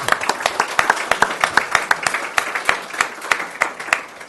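A sparse round of applause from a meeting audience at a Suwon city directors' meeting, distinct claps in a loose steady rhythm, moderately near, without talk.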